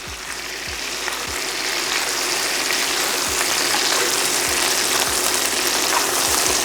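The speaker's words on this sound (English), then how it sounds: "Now we're going to baste the pork chops with that butter." Pork chops sizzling loudly in a pan while being basted with garlic butter, a dense continuous fry with occasional spoon clicks and splashes, close up and without voices.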